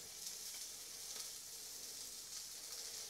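Lamb and mint burgers fry in hot sunflower oil in a pan, a loud, steady hissing sizzle with faint crackles throughout and no talk.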